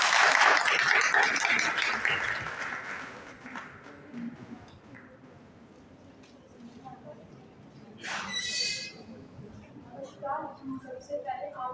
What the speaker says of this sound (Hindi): तालियों से स्वागत है।